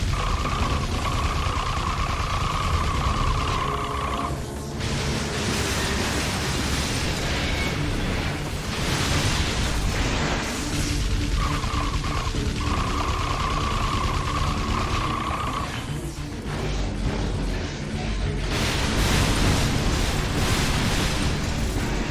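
A boss in the inFAMOUS video game hurls fire through a loud, continuous stretch of roaring blasts and whooshing bursts that overlap without a break, with a tonal hum coming and going underneath.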